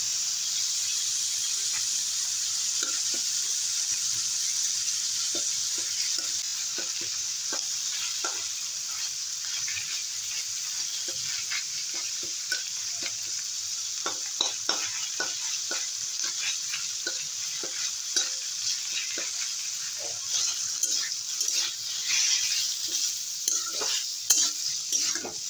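Bottle gourd stems fry in a pan with ginger and cumin paste under a continuous close sizzle, while a spatula stirs and scrapes through them in repeated short scraping strokes.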